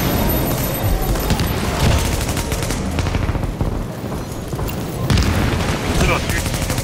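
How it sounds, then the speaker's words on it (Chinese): A wave of explosions in a shooter video game, with booming blasts and rapid gunfire-like bursts packed tightly together, loud and sustained, while players talk over the chaos. "下一波炸喽！"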